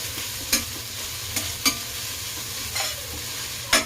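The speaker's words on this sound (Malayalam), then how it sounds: "ഇതിലോട്ട് ഈ ഇല ഇട്ട് കൊടുക്കാം. നമുക്കിതൊന്ന് ഇളക്കി കൊടുക്കാം." Moringa leaves stirred into sautéed onions in a pan, a soft continuous sizzle with a handful of crisp spoon scrapes spaced across the moment, close up and with no voices.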